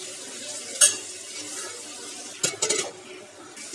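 Ivy gourd and tomato chutney with tamarind being stirred in a pan: a couple of sharp scraping clinks and a short cluster of spoon scrapes over a soft, faint background hiss, no voices.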